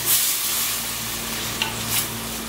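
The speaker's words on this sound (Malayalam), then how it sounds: "ഇനി നമുക്ക് വെള്ളം ചേർത്ത് കൊടുക്കാം." Spice powder fries in a pan for a Kerala-style tuna fish curry, with a steady close sizzle, a few sharp bursts and stirring scrapes, and a low hum underneath.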